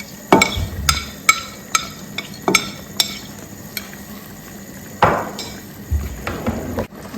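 A spoon stirs chopped shallots, blended ginger and spices in a cooking pot for tilapia light soup, giving repeated clanks and scrapes against the metal with a faint sizzle beneath.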